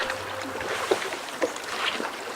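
Oars dip and splash into water in a slow, regular rhythm as a boat is rowed on the Loire, a few faint strokes over soft open-air noise.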